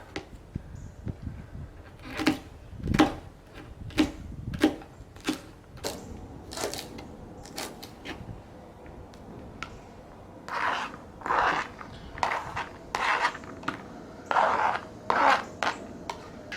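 A knife slices a block of Spam into strips at a camp cooking setup, with a run of crisp, evenly spaced chops against a board followed by clustered softer scraping and cutting strokes.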